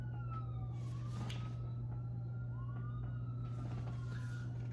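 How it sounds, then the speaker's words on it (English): New York emergency vehicle siren wailing at a distance, its rising and falling tones faint over a steady low hum and street background noise. "The quintessential New York siren"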